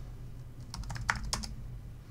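A short run of light keystrokes on a computer keyboard, a quick cluster of soft clicks over a low background hum.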